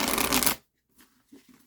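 An oracle card deck is shuffled in one brisk, loud riffle of about half a second, followed by a few soft taps and shuffles as the cards settle.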